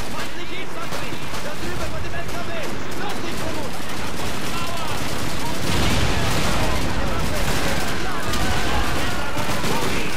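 Grenade blasts and rattling gunfire from Call of Duty 2 form a loud, dense barrage of booms and rapid shots that swell in the second half, with someone talking over the din.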